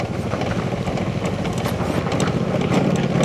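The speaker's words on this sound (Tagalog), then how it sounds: "Ingay ng motor talaga. Butas kasi elbow niya eh." A Yamaha NMAX V3 scooter with a holed exhaust elbow gives off a loud, steady, raspy engine roar while riding, with dense broadband noise continuing throughout.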